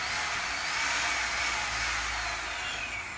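A steady, high-pitched whine of a power drill boring continuously into wood, loud and close, with no pauses.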